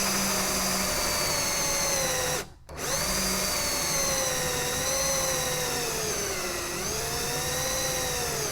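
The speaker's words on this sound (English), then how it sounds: "And of course my drill dies." Cordless drill spinning freely near a pressure washer setup: a close, loud, whining motor that drops out for a moment, restarts, and wavers in pitch as it keeps running.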